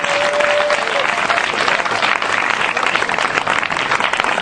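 Loud, sustained applause from a church congregation acclaiming Jesus Christ, dense clapping filling the whole stretch with a brief whistle-like tone early on.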